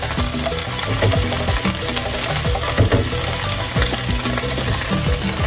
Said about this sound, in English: let's get our garlic thrown in here.